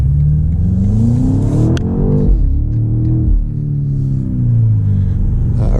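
A 2024 BMW X5 M Competition engine in sport plus mode accelerates with a loud, close rumble that rises in pitch through the gears, then eases and builds again, with no voices.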